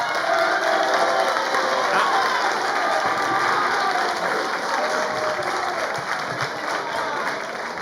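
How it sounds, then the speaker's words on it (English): Graduation audience at an outdoor high school ceremony applauding and cheering, a dense steady roar of many clapping hands with scattered shouts that holds strong throughout before easing slightly near the end. "Give me a round of applause real quick."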